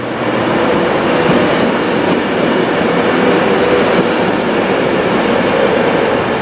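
Passenger train 1M17 pulling out of a station bound for Euston, a steady, loud rolling rumble and rail noise filling the whole stretch without pause, no voices.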